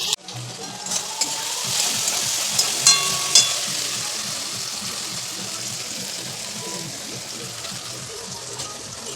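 Ginger-garlic paste sizzles hard in a frying pan with spiced oil of chili, turmeric and Kashmiri chili powders. A loud, continuous frying hiss is dotted with a few sharp pops early on.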